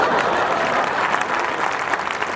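A live audience applauds at a Hindi poetry recital in Chhattisgarh, steady dense clapping that fills the whole stretch at close range with no voices over it.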